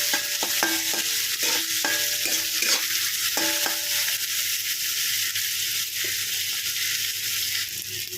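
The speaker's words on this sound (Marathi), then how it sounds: "त्याला आपण ब्राऊन होईपर्यंत छान असं तेलामध्ये परतून घेणार आहोत" Onion sautéing in oil until brown, a steady close sizzle with a run of quick metallic spatula scrapes and taps against the pan early on, then continuous frying alone.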